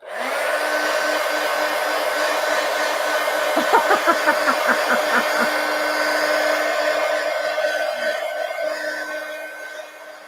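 A hair dryer blows steadily and close over a large collage poster, a constant loud whooshing hum with a brief fluttering patch midway as the airflow shifts, then trailing off at the end.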